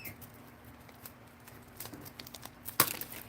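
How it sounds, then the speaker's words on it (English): A brief burst of crinkling dichroic foil near the end, after a stretch of faint rustling and small handling noises. "you can just crinkle this up really, really, really small, like that."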